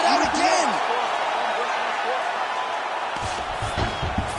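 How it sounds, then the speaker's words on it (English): Arena crowd at a UFC Fight Night in Vegas roars and cheers after a long grappling exchange on the ground, a dense sustained wash of noise with scattered whoops and slaps. "you heard the crowd pop after that grueling ground battle"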